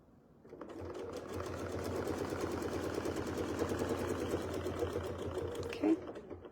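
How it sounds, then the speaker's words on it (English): A sewing machine stitching a quilt block, running in one continuous close, steady whirring buzz for several seconds before stopping. "Okay, then we'll sew right up to the next crosshair line."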